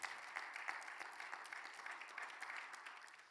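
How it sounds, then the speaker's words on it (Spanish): Congregation at a Bible seminary class applauding, a sustained, very faint wash of many hands clapping at a distance, without speech. "¿Cuánto dan un fuerte aplauso al Señor, por favor?"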